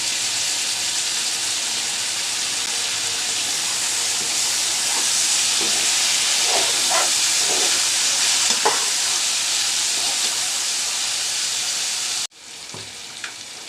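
Five or six green chillies fry in hot oil in a pan, giving a loud, steady, close sizzle with a few soft stirring knocks; the hiss cuts off abruptly near the end, leaving a fainter sizzle.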